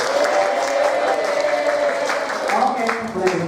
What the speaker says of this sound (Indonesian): Oke, tepuk tangan dulu buat kita.